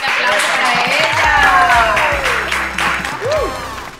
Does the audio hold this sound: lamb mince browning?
no